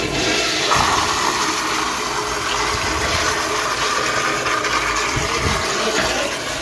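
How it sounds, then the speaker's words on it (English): An American Standard toilet in a convention center restroom flushes with a loud, continuous rushing gush of water that runs steadily throughout, close and unbroken. "The longest flush ever."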